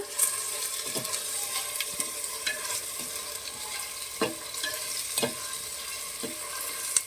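An onion paste mixture, roasted and ground beforehand, fries in a pot with a steady bright sizzle, broken by occasional soft knocks and scrapes of a stirring spoon, close and continuous without speech.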